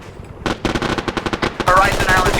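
Aircraft gun firing in a combat flight video game, a rapid burst of about a dozen sharp, loud shots in quick rhythm, close and punchy, ending in a denser rattling stretch.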